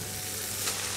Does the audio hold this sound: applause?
no